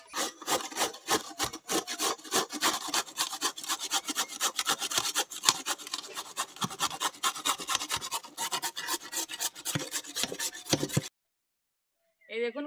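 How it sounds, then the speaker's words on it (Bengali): Red pumpkin being grated by hand on a kitchen grater, a fast steady run of close, scratchy rasping strokes for about eleven seconds before a short silence and a brief voice. "এখন এই যে গ্রেটার নিয়েছি, একটা গ্রেটার দিয়ে গ্রেট করে নেব।"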